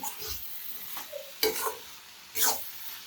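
Vegetable fried rice is stirred in a hot pan, with a few scraping stirs of a spatula over a soft sizzle and quiet gaps between the strokes.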